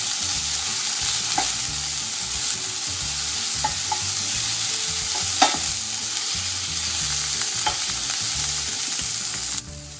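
Vegetarian chow mein stir-fried in a pan with oyster sauce on medium heat, with a constant sizzle and occasional sharp scraping stirs at a close distance, and no talking.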